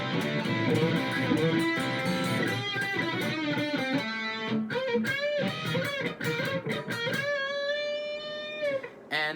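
Distorted electric guitar playing a fast solo line, bright sustained notes and quick runs, loud and continuous with no talking.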